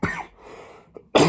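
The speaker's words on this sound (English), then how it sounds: "So I will be coughing a lot in this video." A man with a sore throat lets out a pair of short, close coughs separated by a quiet pause, each a rough burst of breath, with no talking around them.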